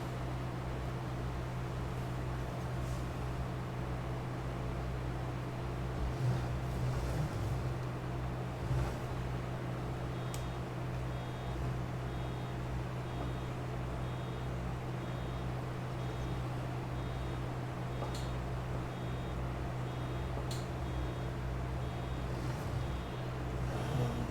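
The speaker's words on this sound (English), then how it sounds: "Come on, tractor, you can go faster." A tractor in the Farming Simulator 22 game drives steadily on a farm map, its low droning engine hum constant and fairly quiet throughout, with faint clicks and shifts over the continuous rumble.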